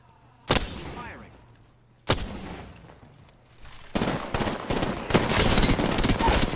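Gunfire in the video game Apex Legends: two sharp single shots with ringing decay, then rapid sustained automatic fire building loud near the end, with a voice speaking.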